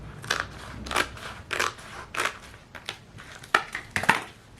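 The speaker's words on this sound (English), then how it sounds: "I'm just going to cut a bit more off there." Scissors snip through a plastic milk bottle in a run of crisp, crunchy cuts, about eight distinct snips at an uneven pace, close and fairly loud with no voices.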